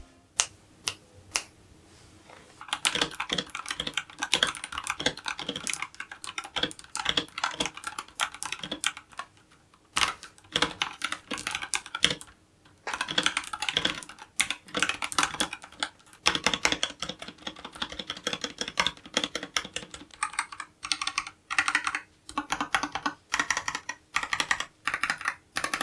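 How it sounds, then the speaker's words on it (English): Fast, continuous typing on an Epomaker AK84S 75% hotswap mechanical keyboard with red switches and regular keycaps, crisp close key clacks in rapid uneven runs with brief pauses, no talking. "Here's a quick typing test with the regular keycaps."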